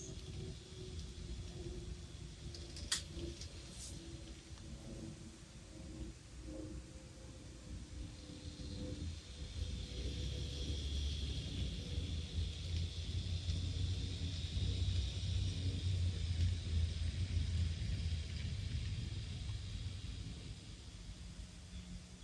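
A quiet, continuous whir from the mechanism of an Atlas Master N scale GE Dash 8-40CW model locomotive, faint at first and growing a little stronger at higher speed in the second half, with a couple of small clicks early on.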